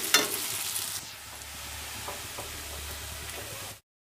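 Ginger and garlic fry in a pan for a chicken curry, a steady close sizzle with a few sharp stirring scrapes, cutting off abruptly near the end.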